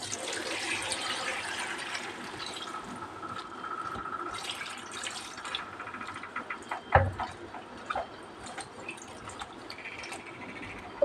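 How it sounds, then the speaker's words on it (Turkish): Water poured into a pot of vegetable stew with eggplant, a steady running splash that fills the scene, with a sharper clink of the pot partway through. "üzerine suyunu koyuyoruz."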